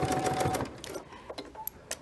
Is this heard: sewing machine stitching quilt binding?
yes